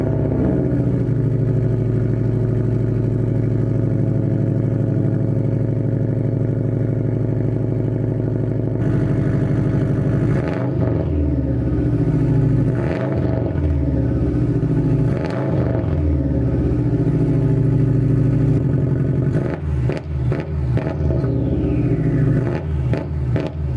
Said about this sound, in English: Straight piped all the way through, just give it a little blip of the revs.